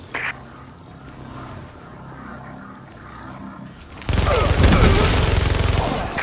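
Scattered clicks and a short pop give way to a sudden, loud burst of sustained gunfire in The Division as a squad fires on the last remaining hostiles; the volley is close and dense through the final couple of seconds.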